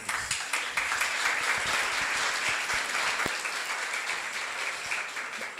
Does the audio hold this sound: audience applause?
yes